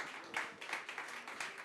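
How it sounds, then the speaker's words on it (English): Audience applause greeting the judges at a live song contest final, a steady wash of many hands clapping with rhythmic swells, moderately quiet and continuous. "Give them a huge round of applause."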